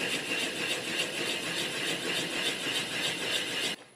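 A wood lathe spins a big walnut slab at slow speed, giving a rhythmic, pulsing whir with regular thumps each rotation before it abruptly cuts off near the end.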